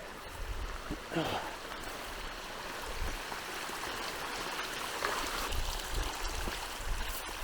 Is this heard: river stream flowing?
yes